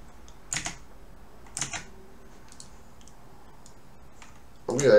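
A few separate keyboard keystroke bursts are spaced over several seconds, crisp and fairly close, ending in a louder clatter of keys.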